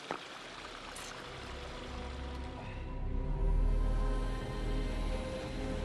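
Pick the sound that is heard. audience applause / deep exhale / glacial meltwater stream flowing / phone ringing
glacial meltwater stream flowing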